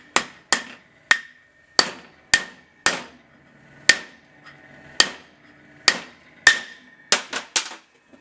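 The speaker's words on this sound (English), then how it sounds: "Now I'm putting that pilot bushing in there." A pilot bushing is hammered into place with about fourteen sharp metallic strikes, some evenly spaced and others quicker in a cluster near the end, close and clear in a quiet room.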